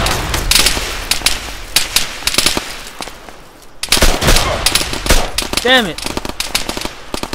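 Rapid bursts of automatic and single gunfire from the military shooter game ARMA 3, loud and near, crackling through most of the stretch with a brief lull midway, while players shout over it.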